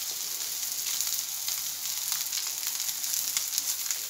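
An egg chicken burger patty frying in oil in a nonstick pan, giving a steady, even sizzle throughout with faint crackles and no voices.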